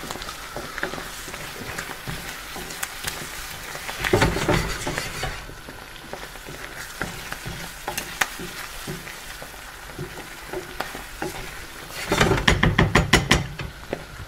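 A spoon stirs lemon juice into a sizzling dansak curry in a pan, with steady soft frying hiss and bursts of scraping and clattering strokes, loudest in two busy spells of stirring.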